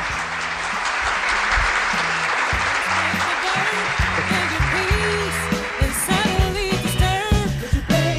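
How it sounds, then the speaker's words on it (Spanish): A television studio audience applauds a guest's entrance, a loud dense wash of clapping sustained over several seconds while music plays underneath, thinning toward the end as the clapping becomes more scattered. "Damos un aplauso muy grande"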